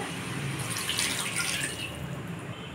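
A glass of water is poured into a cauliflower green masala mix, a steady close splashing pour lasting a few seconds with no talk over it.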